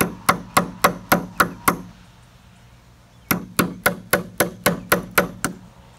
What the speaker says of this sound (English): we are going to use the chisel and tap it with the hammer